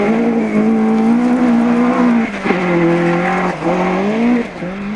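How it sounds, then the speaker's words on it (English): A Cosworth-engined Ford Escort Mk II rally car races past at a rally, its engine loud and close with a steady high-revving note that shifts pitch as it passes. "Andy McGee certainly isn't hanging around in the JB Tires Cosworth engined example"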